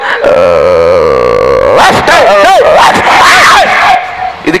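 A man vocally imitates a dog during a Tamil folk-dance comedy skit, first with a long drawn-out howl and then a string of rapid yelping barks and yips, loud and close, with other voices mixed in.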